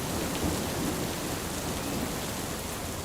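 Cartoon rain falls on a pond as a steady, dense hiss with a low rumbling undertone, constant throughout and without voices.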